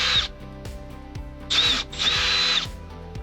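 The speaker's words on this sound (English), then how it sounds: "let's drill a couple of holes" A power drill bores holes through a plastic box in bursts, whining in short spurts with pauses between them and then a longer run, loud and close.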